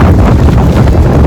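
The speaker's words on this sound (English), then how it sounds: "Very windy." Loud, constant wind roars and buffets the microphone in a dense low rumble, close and overwhelming, while climbing out of Rock Gap on the Appalachian Trail.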